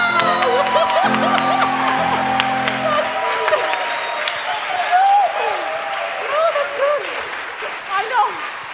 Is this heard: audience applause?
yes